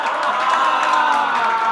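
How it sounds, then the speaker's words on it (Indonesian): A theater audience at a magic show claps and cheers loudly, a dense, continuous wash of applause with scattered whoops. "Ya, tepuk tangan lagi."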